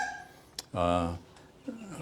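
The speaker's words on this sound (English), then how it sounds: "So one will start barking" A single dog bark rings out from a neighborhood in the Philippines, one short loud burst standing clear amid faint outdoor background noise.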